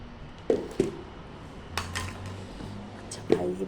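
Dishes and cutlery set down on a table in a home, a few sharp clinks and clatters at uneven intervals, with a speaking voice and quiet room noise around them.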